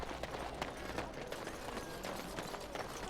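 Quick running footsteps in the video game Dragon Age: Origins patter in a steady rhythm over a constant background wash, moderately quiet and without speech.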